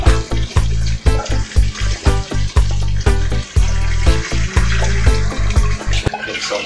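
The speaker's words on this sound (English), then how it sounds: "Gonna throw off the hot water." Hot water is tipped off a pot of hard-boiled eggs into a sink, a loud close splashing pour broken into rapid gushes and glugs, with no talk over it.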